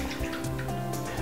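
Water from a cup poured into a pan for boiling, a close, continuous splashing gurgle lasting about a second with no talk.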